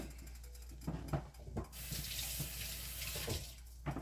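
Tap water running into a kitchen sink while something is rinsed, a close, steady gushing stream that starts after a few clatters of handling and continues to the end, with no talk.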